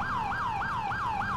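A fire truck siren in the video game GTA IV wails in a rapid, repeating rise-and-fall yelp, loud and continuous, heard alone without speech.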